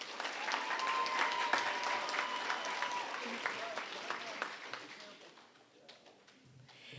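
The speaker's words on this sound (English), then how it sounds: "Let's give them another round of applause." Sustained applause from a school assembly audience cheering kindergarten students, dense and steady clapping that tapers off toward the end, with faint voices mixed in.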